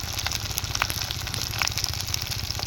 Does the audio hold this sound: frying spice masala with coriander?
yes